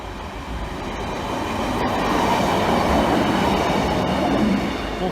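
Train 53384 to Doncaster rumbles through the Great Northern Terrace level crossing, a loud, close and continuous roar of wheels and carriages that swells and holds steady, with no voices.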